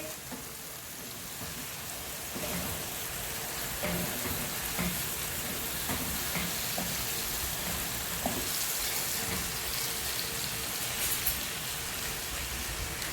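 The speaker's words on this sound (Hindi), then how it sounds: "इसको 1 मिनट तक अच्छी तरह भूनेंगे हाई फ्लेम पे।" Tomatoes fry on a high flame for a Kadu/Loki curry, giving a steady, fairly loud sizzle and crackle that runs unbroken throughout, with faint scattered pops and no talking.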